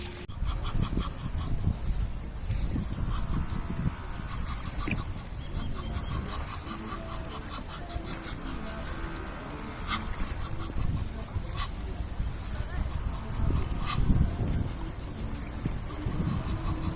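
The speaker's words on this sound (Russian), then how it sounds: "Все-таки это гуси, я думаю. домашние утки." Geese or domestic ducks honk and call repeatedly at a park pond in Rishon LeZion, scattered squawks rising over a steady bed of rushing water from a nearby small waterfall.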